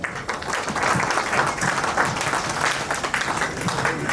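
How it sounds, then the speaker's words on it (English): An audience at a professional seminar gives the speaker a round of applause, a steady, moderately loud wash of many hands clapping with slight swells, under faint room murmur. "Huge round of applause our speaker"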